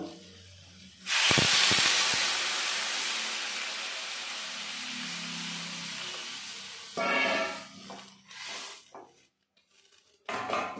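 Water poured into a hot pan of simmered Lailontika fish curry with giant taro (mankochu) sets off a loud, sustained hiss of steam that slowly fades over several seconds, followed by a few clinks of cookware.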